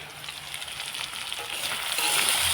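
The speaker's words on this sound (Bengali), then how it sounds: "আলু ভাজা হচ্ছে" Potatoes fry in a pan with a steady, close sizzle that grows slightly louder toward the end, and occasional stirring is heard under it.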